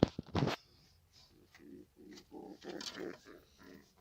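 Homing pigeons coo softly in a loft, repeating low rounded calls in a steady run after a brief clatter at the start.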